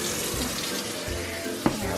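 Tap water runs steadily into a sink or bowl to submerge food for a Filipino pork monggo recipe, a continuous splashing stream with small bumps of handling and no talk.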